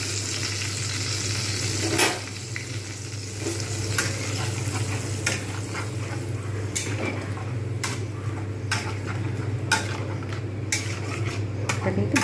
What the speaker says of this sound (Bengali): এটা কিন্তু ভালো করে কষবো মশলাটা।